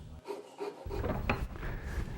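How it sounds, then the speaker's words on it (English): Rasping strokes of a file shaping the wooden buttstock of a Winchester Model 12 shotgun, a steady scratchy scraping that continues close by with no talking. "First I'll file them in, then blend out the bottom line into the wrist."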